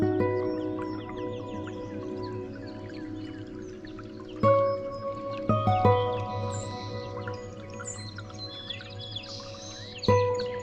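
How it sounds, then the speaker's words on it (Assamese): Birds singing outdoors during a quiet lockdown, faint scattered chirps and tweets over a steady low hum, with a few sharp knocks breaking through. "চৰাইবোৰৰ মাত শুনা যায় হেনো।"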